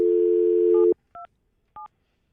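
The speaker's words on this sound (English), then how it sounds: "Let me dial him up here." A telephone line hums a steady dial tone that cuts off, then two short touch-tone dialing beeps follow, clear and close.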